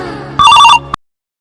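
A telephone gives one short, loud, close electronic ring in a burst of bright repeating tones, then cuts off abruptly into silence.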